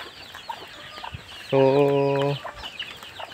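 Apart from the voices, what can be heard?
chickens, roosters on a farm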